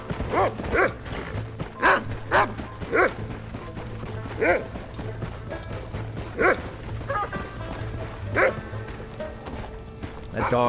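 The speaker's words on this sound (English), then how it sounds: "That dog is like just determined to be walking underneath my hooves." A dog barks near a horse in Red Dead Redemption, sharp repeated barks in an uneven rhythm, close and loud, over a mechanical creaking bed with a voice talking.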